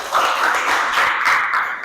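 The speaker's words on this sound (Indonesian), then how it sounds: "Nah, tepuk tangan untuk kelompok 3." Classroom students clap for a presenting group, a brief continuous burst of applause at close range that stops abruptly.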